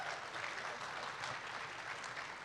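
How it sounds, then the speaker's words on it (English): Audience at an education technology conference applauding, a dense, even wash of many hands clapping in a large room, sustained and fairly distant. "Please, a round of applause for them."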